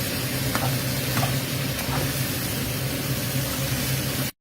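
Food being stir-fried in a hot pan, a loud, steady, close sizzle with faint scraping of a spatula, continuing without pause until it cuts off abruptly.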